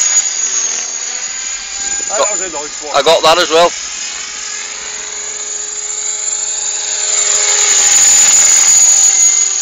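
T-Rex 500 radio-controlled helicopter with a stripped gear whines at a steady high pitch near the listener, with a grinding buzz, while people talk over it.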